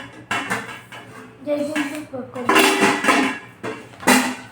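A steel pot and its lid clank and scrape as they are handled, several bright knocks between stretches of talking.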